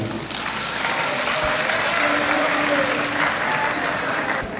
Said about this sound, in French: que je vous prie d'acclamer